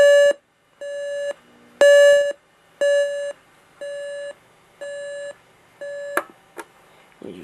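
A General Electric 7-4663A clock radio alarm sounds a loud, clear electronic beep repeated about seven times in a steady on-off rhythm, each tone roughly half a second long with brief gaps between, close and alone.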